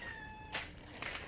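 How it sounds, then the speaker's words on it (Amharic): A cat being bathed at home gives a short, clear meow up close, followed by a couple of brief splashy bursts of noise. "ድመቷን እያስዋኩት"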